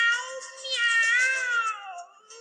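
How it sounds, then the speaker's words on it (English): A single long, high-pitched cat meow, clear and close, rising then trailing off with no other sounds. "The cat. Meow, meow,"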